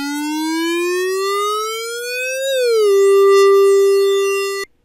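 An Arturia MicroFreak synthesizer plays a bright, buzzy tone whose pitch glides steadily upward, drops slightly, then holds at a flat plateau before stopping abruptly, loud and alone with no voices.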